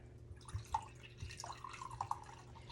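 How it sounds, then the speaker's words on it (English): Water is poured into a pot of savory butternut squash soup, giving soft splashing and dripping with a few brighter plops, quiet and close with no talk over it. "And then I'm gonna add in my water."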